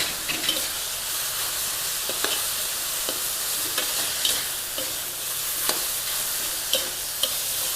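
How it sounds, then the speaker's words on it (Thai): Mushrooms sizzle steadily in a hot pan as holy basil is stirred in, a dense hiss running throughout with regular scraping spatula strokes. The cooking is close and fairly loud, with no voices. "เราก็จะใส่กระเพราค่ะ ตามความชอบเลยนะคะ คลุกเคล้าค่ะ"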